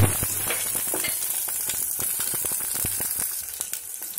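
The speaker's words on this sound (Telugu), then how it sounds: "ఇలాగ వేయించుకోవాలి" Onion sizzles in hot oil after tempering spices, as the base for spinach kadhi, with dense crackling and sputtering pops close up and no talking.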